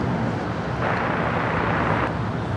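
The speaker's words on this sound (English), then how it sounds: "United takeoff." A United airliner takes off at Los Angeles International Airport with a broad, steady roaring jet rumble that swells partway through, heard at a distance over wind noise.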